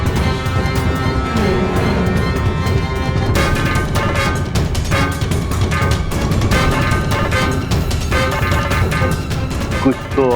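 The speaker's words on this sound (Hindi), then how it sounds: "ये तो दशानंद की गदा की ध्वनि थी स्वामी" A dense, loud battle soundscape from a mythological drama, with crashing impacts and metallic clashes meant as Ravana's mace striking, layered over a heavy dramatic music score throughout.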